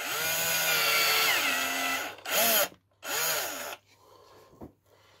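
A power drill bores out plastic on an Arrma 6S RC car battery tray, loud whining bursts with short pauses between, ending in quieter scraping handling noise.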